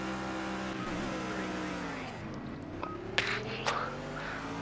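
A Mercedes SLS AMG GT3 race car in Project CARS revs hard off the start, its engine note sweeping down and back up through gear changes, with a few sharp transient knocks near the end.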